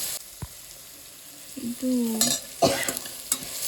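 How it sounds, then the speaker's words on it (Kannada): Pumpkin curry ingredients are fried and stirred in a pan, with a soft steady sizzle and a few scraping stirs and clinks of the spoon against the pan, close by, with a single brief spoken word. "ಇದು ಒಂದು 3-4 ಮಿನಿಟ್ಸ್ ಫ್ರೈ ಆಗಬೇಕು."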